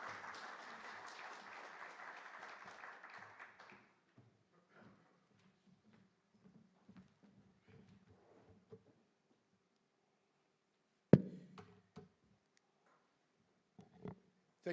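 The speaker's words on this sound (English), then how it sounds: "Let's give him a very big round of applause." Applause from a conference audience welcoming a speaker, with a full burst of clapping for about four seconds that cuts off into near silence, followed by faint shuffles and a couple of sharp knocks.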